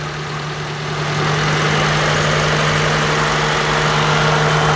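A car engine idling steadily after its battery terminal has been disconnected, a continuous close hum with a low tonal drone that grows slightly louder after the first second.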